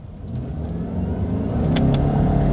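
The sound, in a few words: 2021 Subaru Legacy accelerating, paddle shifter gear change test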